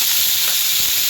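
Onion drops into a hot pan and sizzles in a short, loud, unbroken hiss that is close and fills the moment.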